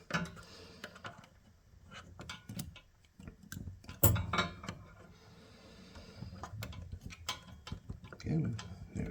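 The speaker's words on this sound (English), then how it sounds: "I'm going to bring my screwdriver in here and help me tuck them in." A screwdriver tucks wires into a Stern Uncanny X-Men pinball machine during a takeoff and landing scene mod, making close, irregular plastic clicks, taps and scrapes with a louder knock near the middle.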